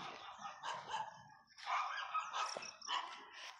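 Several dogs bark and yip in a backyard, a cluster of short overlapping barks in quick bursts at moderate distance, with no talk over them.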